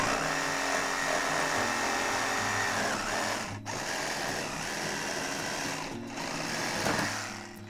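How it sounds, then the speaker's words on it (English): A Craftsman V20 cordless reciprocating saw runs continuously while cutting, giving a loud, dense buzzing drone with brief dips and pitch changes as the blade works through the material. "I'm going to go ahead and cut this."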